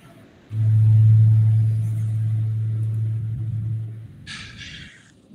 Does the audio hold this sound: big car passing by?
yes